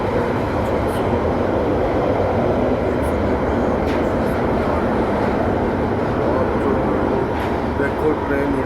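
Inside a moving London train headed toward Shepherd's Bush, a loud, continuous rumble and rattle fills the whole stretch, with a voice talking underneath.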